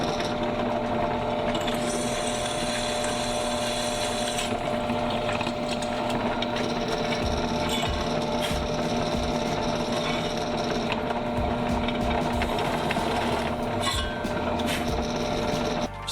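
Power drill boring holes through the main spar of a Sonex aircraft kit, a steady close whining motor drone with sustained tonal bands running the whole time, no talk.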